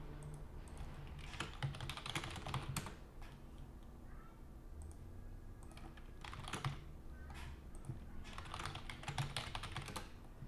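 Rapid clicking of keys on a computer keyboard comes in quick bursts separated by short pauses, fairly close and moderately quiet.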